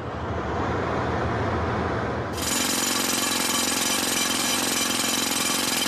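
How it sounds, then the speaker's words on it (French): Jackhammers pound at a construction work site at the Hajj holy places near Mecca, a loud continuous rapid hammering that grows harsher and denser partway through, with no voices. "le murmure des prières a été remplacé par le bruit des marteaux-piqueurs"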